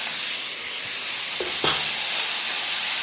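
Water poured into hot roasted gram flour in a pan while making besan halwa gives a brief sharp hiss and sizzle over a steady steamy background.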